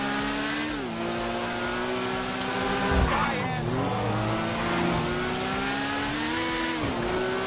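A motorcycle's engine from a GTA biker-club delivery run revs and shifts through gears, close and loud, with pitch rising, dropping at shifts and climbing again, while someone talks over it.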